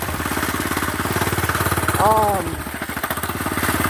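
A Hover hearts 99cc mini bike engine running after a pull start, a steady close putter that rises briefly in revs midway, with a faint squeal over the top.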